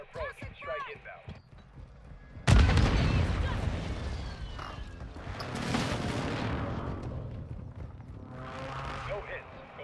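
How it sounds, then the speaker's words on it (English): Airstrike explosions in the video game High On Life: a sudden loud blast followed by further rolling booms and rumble, with voices talking over and around the impacts. "Request an airstrike at this location."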